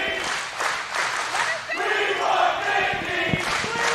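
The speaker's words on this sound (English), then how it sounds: "Crowd breaks out into a We Want Mickie chant" A wrestling crowd at a 2006 IWA Mid-South King of the Deathmatches event chants in unison, rising and falling in steady waves of massed voices that fill the room throughout.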